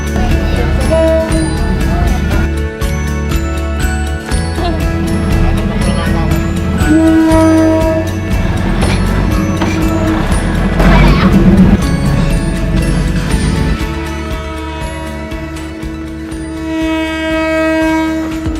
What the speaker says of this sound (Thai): ส่วนในเวลาที่รถไฟผ่านเขาก็จะมีสัญญาณเตือนนะคะ